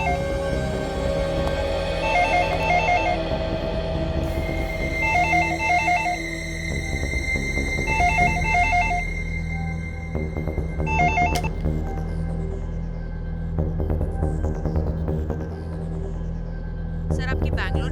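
A telephone rings in repeated double bursts at a steady rhythm over a low hum, with a few clicks and knocks between rings.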